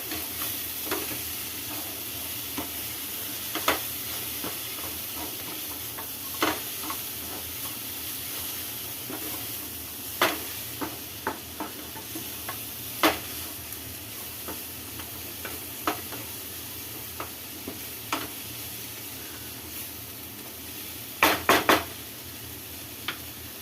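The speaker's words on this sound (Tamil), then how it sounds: "இப்போ இதையும் சேர்த்து நல்லா வதக்கிக்கலாம்." Cabbage sizzles and hisses in a hot pan while a utensil stirs, with scattered sharp scrapes and clinks against the pan throughout.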